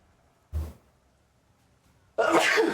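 A single sharp sneeze bursts out during a tabletop wargame session, followed after a short quiet gap by a louder, sustained broadband rush of noise.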